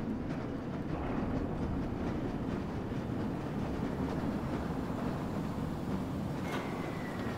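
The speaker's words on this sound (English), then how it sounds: "let's just take the tram around" Tram riding on rails in the game Black Mesa, giving a steady, loud rumbling roll with faint rhythmic clatter and a brief high squeal near the end, with no voices.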